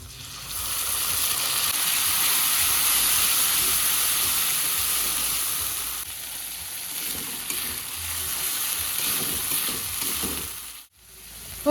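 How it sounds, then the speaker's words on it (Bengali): A paste of garlic, ginger, cumin and dried chilli sizzling hard in a hot pan, a loud, steady hiss that eases slightly before a brief clatter near the end. "এখন আমি দিচ্ছি রসুন আদা জিরে আর শুকনো লঙ্কা পেস্ট"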